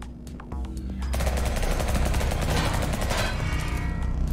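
Rapid automatic gunfire from a noir cyberpunk 2D side-scrolling shooter game, a dense continuous barrage of shots that swells louder after the first second and keeps going without pause.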